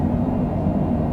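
An airplane landing at Morgantown, West Virginia, in strong headwinds, with the thrust reverser deployed, makes a steady, broad, roaring rush of engine noise that continues without a break.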